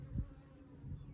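Honeybees hum around an opened hive during the first spring inspection, a low steady drone close by with a couple of brief louder buzzes as individual bees pass the microphone.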